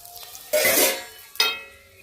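Chicken pieces drop into hot ginger garlic paste in a home kitchen pan, giving two bursts of loud, close sizzling, a long hiss and then a shorter one, with quiet pauses around them.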